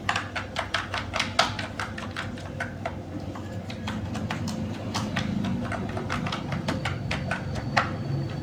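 Someone types on a computer keyboard while filling in an online application form, with a steady run of crisp, close key clicks in irregular bursts and brief pauses, with no talking.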